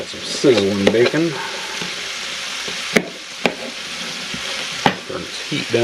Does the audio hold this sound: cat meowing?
no